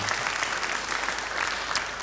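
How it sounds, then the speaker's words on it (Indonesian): A church congregation claps in a dense, steady burst of applause that fills the space for about two seconds. "Beri tepuk tangan yang baik buat dia"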